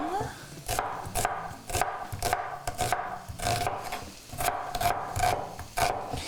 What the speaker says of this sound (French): je vais hacher un oignon comme ça